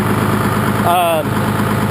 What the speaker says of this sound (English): I don't know how well you can hear me talking over the motor, but it's pretty loud and it's idling just a little bit high